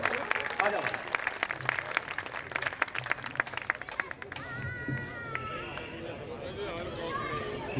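A crowd claps at a live Hindi comic poetry gathering in Faridabad, with distinct sharp claps at first that thin out into crowd chatter and a voice near the end.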